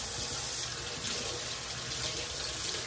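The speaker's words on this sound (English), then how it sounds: "So I'm going to run some water in there." Warm tap water runs steadily from a faucet into a container, a continuous close hiss and splash used for washing farm-fresh chicken eggs.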